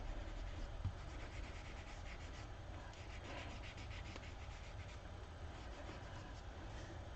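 Faint, steady rubbing and scraping as a black-and-white relief print is burnished by hand over an uneven block, a continuous soft friction texture with small uneven strokes, quiet and close.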